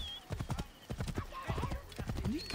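Horse hooves clip-clopping at a walk in the Assassin's Creed Origins video game, a steady close rhythm of hoof strikes with a brief neigh near the end and someone talking over it.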